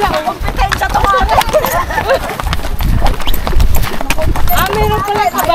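Horses' hooves clip-clopping at a riding competition in Kazakhstan, a rapid irregular patter of hoofbeats with occasional snorts, heard under a steady babble of nearby voices talking and exclaiming.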